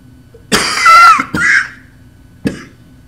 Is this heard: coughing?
yes